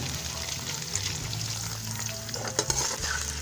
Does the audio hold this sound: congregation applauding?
no